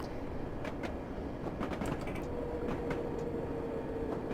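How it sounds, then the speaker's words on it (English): A rising electric whine of London Underground D78 Stock traction motors in Train Simulator 2017 hums under faint clicks and rail noise, steady and moderately quiet. "And you can just hear the nice traction sounds."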